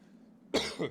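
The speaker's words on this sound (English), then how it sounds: "I thought I got rid of this cough, but evidently I haven't." A single sharp cough, close and fairly quiet, with a second smaller throat burst right after, following a faint low background hum during a game playthrough.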